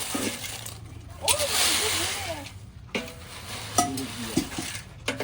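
Peanuts roasting in hot sand are stirred in a pan with a scraping, gritty rustle. Strokes come in irregular bursts, close by, while people talk over the sound.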